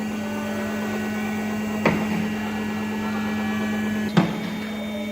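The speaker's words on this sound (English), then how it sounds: "we're on a hoist, so we're able to raise the vehicle up into the air" Steady electric hum of a vehicle hoist raising a Nissan R32 Skyline in a workshop, a constant drone broken by two sharp metallic clunks, no voices.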